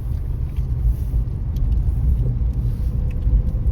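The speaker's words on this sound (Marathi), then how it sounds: "मंडळी पार्किंगला गाडी लावली" A car rolling into a parking spot at a crowded village festival, heard from inside the vehicle as a steady, close low engine rumble and road drone throughout, with no talk.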